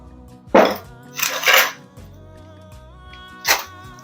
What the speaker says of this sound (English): And we continue the mixing.